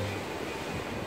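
Ocean surf washes below the end of Crystal Pier in San Diego, a soft steady rush of waves with light wind noise, distant and even.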